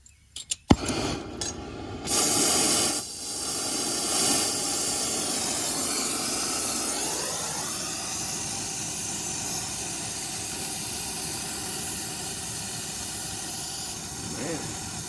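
A torch heating a leaking copper pipe joint on an R-22 heat pump to sweat it, with a steady loud roaring hiss after a few clicks at the start, and a voice speaking early on.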